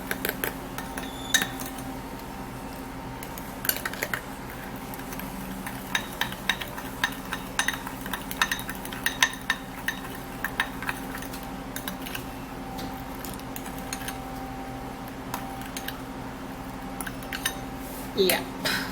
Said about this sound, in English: I'm going to be mixing this all up